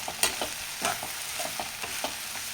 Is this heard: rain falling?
no